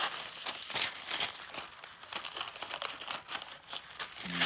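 Scissors cut around a paper shape for a cone flower craft, making a run of close, irregular crisp snips and papery crinkles at a quiet level.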